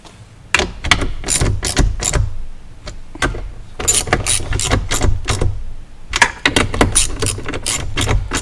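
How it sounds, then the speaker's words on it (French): A ratchet wrench clicking rapidly as it unscrews a speaker in a GMC Sierra or Chevrolet Silverado 1500 truck, in repeated close bursts of sharp ratcheting with brief pauses. "On vient dévisser le speaker."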